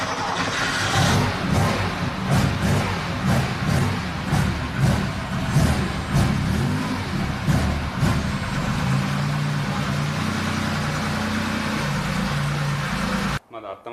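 An old Porsche drift car with Weber 45 carburettors idles while still cold at a drift event, a lumpy, pulsing low rumble that runs steadily beneath someone talking nearby.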